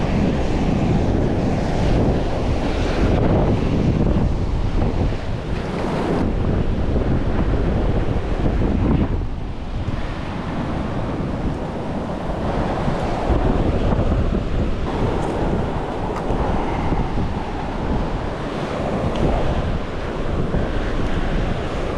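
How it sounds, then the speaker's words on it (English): Strong wind buffets the microphone continuously over steady crashing surf on a beach, a loud, unbroken roar with no voices. "I know it's a little windy out here today."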